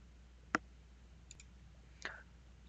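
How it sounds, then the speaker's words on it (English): Two faint, sharp computer mouse clicks about a second and a half apart sound in a quiet room while a file is saved. "and click on save"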